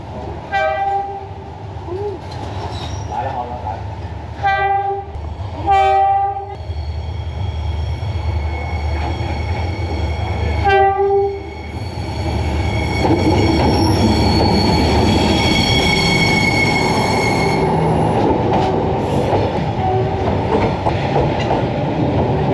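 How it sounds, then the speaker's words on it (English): A train rumbles past up close on Hanoi's Train Street, its horn sounding in several long blasts, with wheels squealing and clattering as it rolls through the narrow street. "So you can hear the train now."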